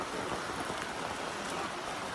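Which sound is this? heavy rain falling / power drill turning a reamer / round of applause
heavy rain falling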